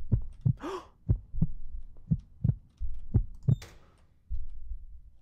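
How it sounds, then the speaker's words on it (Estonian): A heartbeat in a video game thuds in slow, paired beats, loud and close, about seven times, with a brief rising whoosh and a burst of noise between the beats. "Kas te nüüd kuulsite neid südametukseid või?"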